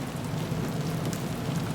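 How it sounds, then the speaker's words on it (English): Rain beats against the windows of a long-distance bus on a windy, rainy night, a faint, even, continuous patter with a low rumble underneath. "The wind blows hard, while the rain hits the windows of the vehicle hard."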